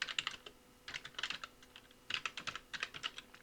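Fast bursts of clicking keystrokes on a computer keyboard, close and crisp, come in quick clusters separated by short pauses.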